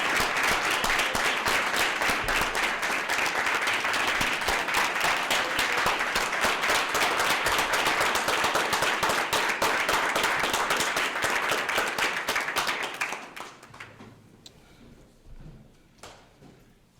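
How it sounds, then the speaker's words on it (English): A debate audience at a Black History event with scholars from The Arthur School gives a long, dense round of applause, loud and sustained for about thirteen seconds before it drops abruptly to scattered claps and room noise. "let's give them one more round of applause"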